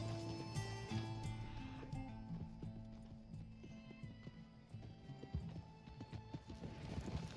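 Horse hooves in Red Dead Redemption 2 clip-clop in a steady galloping rhythm, fairly close, over a layer of sustained tonal game music with a few scattered knocks.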